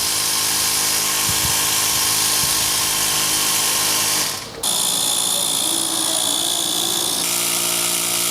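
An electric inflator pumps air into the tire of a Honda XRV750 Africa Twin motorcycle, a steady close buzzing whine that briefly cuts out and restarts in a higher, shifted tone.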